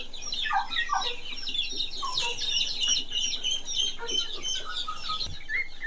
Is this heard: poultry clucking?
yes